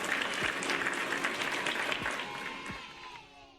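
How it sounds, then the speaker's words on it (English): A room of people claps and cheers, with a dense spatter of applause that is fairly faint and gradually thins out toward the end. "And then everyone would cheer."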